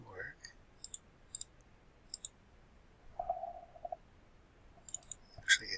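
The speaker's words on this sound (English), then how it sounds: "Actually a double click" Computer mouse clicks ring out as short, sharp ticks in quick pairs during work in a game-building editor, spread across the span with quiet stretches between them and a brief murmur of talk in the middle.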